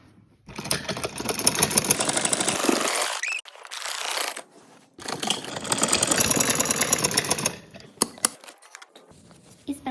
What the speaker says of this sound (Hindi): अब सिलाई लगाएंगे